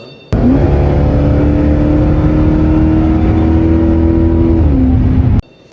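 A Dodge Challenger Hellcat's engine roars loud and close in one sustained high-revving pull with a steady whining tone, cutting off abruptly at the end.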